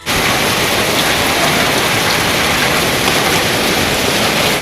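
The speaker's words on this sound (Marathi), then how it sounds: "काही भागात मुसळधार तर काही भागात रिमझिम पाऊस झाला" Heavy rain pours down during a night storm in Solapur, a dense, loud, unbroken roar of water hitting surfaces with no voices present.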